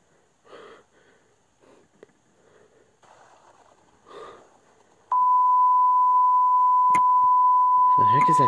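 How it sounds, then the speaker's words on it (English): A television in The Visitor VR horror game switches on with a sudden loud, steady electronic tone that holds without a break, after a stretch of quiet breathing and faint murmurs. "Oh, it's the TV."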